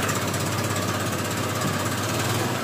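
A Honda Vario motor scooter, a ride-hailing bike with white exhaust smoke, runs steadily right after being started on its electric starter, giving a loud, continuous mechanical engine rumble with no talk over it.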